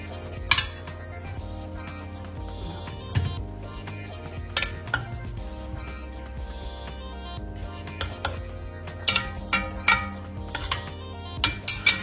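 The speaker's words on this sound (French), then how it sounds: "Là, je vais plonger mon poisson à l'intérieur" Fish pieces are placed into a pot of curry amid clinks and knocks of a utensil against the pot, close and fairly loud, in scattered bursts with no talking.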